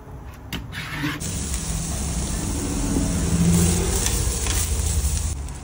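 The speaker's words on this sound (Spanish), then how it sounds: "Por este lado tengo unas cositas que estoy calentando al vapor" Food steams inside a taco truck with a steady, even hiss over a low rumble. The sound holds constant throughout, with no voices.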